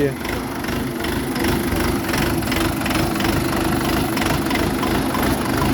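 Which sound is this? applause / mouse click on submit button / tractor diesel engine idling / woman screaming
tractor diesel engine idling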